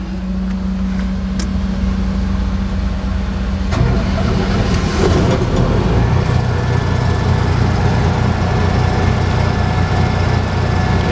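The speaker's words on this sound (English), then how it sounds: "Start up that motor" Engine of a Ford F0550 service and lube truck starting up, a steady idle hum that shifts into a louder, fuller running drone after a few seconds, continuous and close.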